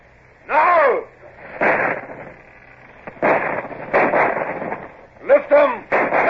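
Ship's cannons fire a broadside at a shore battery in a radio drama, a series of booming blasts in separated bursts with voices shouting over them.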